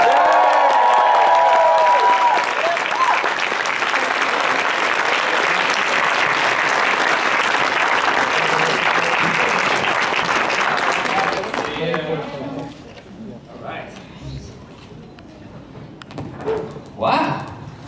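Audience at a Toronto Comic Con Q&A with a guest bursting into loud, sustained applause and cheers that fill the room for about eleven seconds, then fade into scattered claps and murmurs as voices begin talking.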